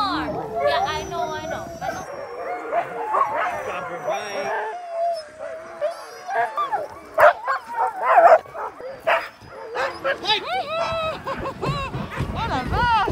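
Sled dogs bark, yip and whimper excitedly in a rapid, irregular chorus nearby, mixed with people talking and calling out over them.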